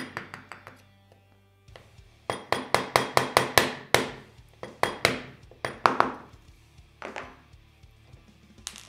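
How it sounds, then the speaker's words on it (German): Hammer taps knocking the pins out of the front sight of a WE M4 open-bolt gas blowback airsoft rifle, a run of sharp metallic strikes in quick bursts, close and loud with short pauses between groups. "Dann haben wir oben drüber am Frontside nochmal zwei Pins. Die schlagen wir auch gleich raus."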